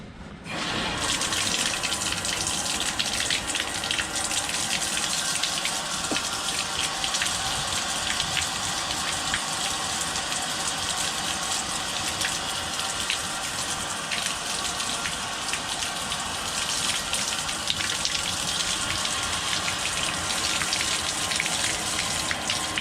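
Water pours steadily into a newly installed bathroom fixture during a remodel, a continuous loud hissing gush that runs unbroken for over twenty seconds with no talking.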